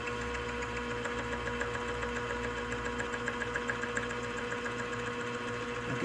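A boring head cuts an off-center air compressor connecting rod, a steady close mechanical whir with a fast, even ticking pulse running throughout, no voices.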